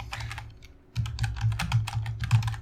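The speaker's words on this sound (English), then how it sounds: "the keyboard's at an angle, so it's hard to type" Rapid typing clatters on a computer keyboard set at an awkward angle, a steady irregular patter of close key strikes with a brief lull near the start, with no talking over it.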